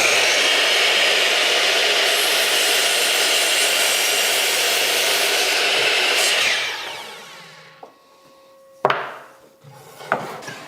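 A radial arm saw cuts through a wooden workpiece on a shop-built saw bench, giving a loud, steady whining rip for about six seconds before the blade winds down, followed by a few sharp knocks of the wood being handled.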